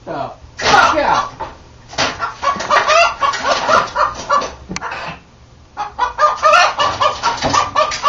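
Rooster clucking and squawking in bursts, loud and close, with excited people talking over it in an indoor space.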